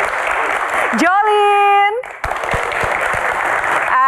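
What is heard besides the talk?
studio audience applause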